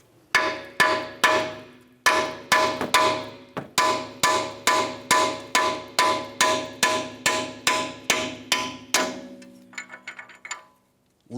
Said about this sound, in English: We'll use a hammer to break this free.